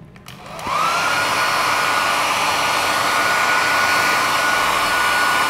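A hair dryer switches on and quickly rises to a loud, steady, close whoosh and whine that continues evenly to the end.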